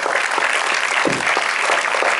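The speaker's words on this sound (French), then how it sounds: "Je voudrais que vous applaudissiez Thierry" A cinema audience at a film premiere bursts into loud, sustained applause, a dense wash of clapping that runs steadily throughout without voices.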